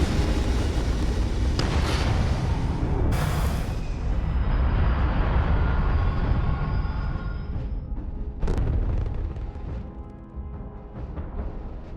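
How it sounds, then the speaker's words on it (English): Spaceship lifting off in Starfield, a loud continuous roaring rumble of engines with sharp bursts and hissing layered on top, gradually thinning as it climbs away, with no voices. "Ready for takeoff in 3, 2, 1, go!"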